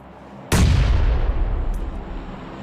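In the BGMI battle game, a grenade blast cracks out suddenly and loud, then a long rumbling decay trails off, with a faint distant pop near the end.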